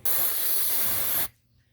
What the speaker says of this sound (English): Now I'm going to spray the crap out of it.